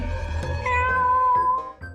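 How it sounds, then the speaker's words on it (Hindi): A pet cat gives a clear, close meow lasting about two seconds, rising and then trailing off, with faint background noise. "हाँ, मेरी बिल्ली।"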